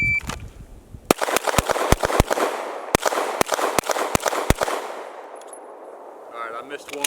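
A pistol is drawn from the holster and fired at range targets in a quick string of about a dozen sharp, loud shots. The shots come in two bursts with brief pauses between them, then the range goes quiet.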